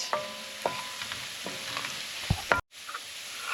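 Chopped onion fries in hot oil in a pan, giving a steady sizzle with a few sharp clinks of a spoon stirring, close-up, until a brief cut to near silence near the end.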